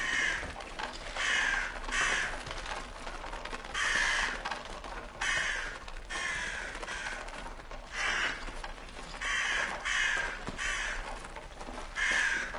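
Several crows caw loudly in a Fallout game, caged and close by, with harsh calls coming in repeated bursts roughly every second or two and faint mechanical clicking in between.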